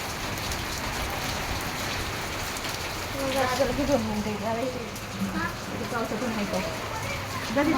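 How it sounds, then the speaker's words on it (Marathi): Steady heavy rain pours down throughout in Mumbai, with a voice speaking over it in the second half. "मस्त पाऊस आलाय ना खूप"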